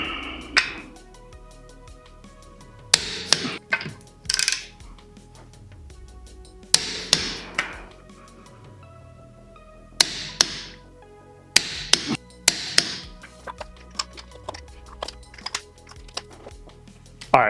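Torque wrench tightening the wheel lug nuts on a Mk7/7.5 VW Golf R, a series of sharp metallic clicks and taps in scattered bursts, close and fairly loud, with quieter ratcheting handling between them.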